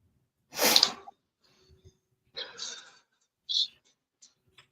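One sharp, close sneeze, followed by a few soft breaths and small mouth sounds in an otherwise quiet room.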